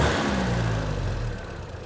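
MG Midget engine idling steadily, a close low rumble with a slight dip in pitch, running alone without any talk.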